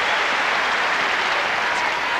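Steady applause from a tennis crowd, a dense continuous patter of clapping throughout with no pauses.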